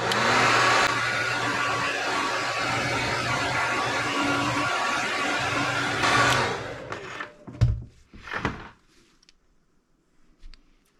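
A hair dryer blows heat onto freshly painted fishing bait, a steady loud roar of fan and air that runs for about six seconds and then cuts off, leaving a few short bursts and fading noise.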